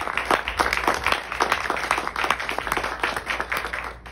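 A theatre audience claps steadily and loudly for Francisco, the general manager, producing a continuous, fairly close burst of applause with little talk.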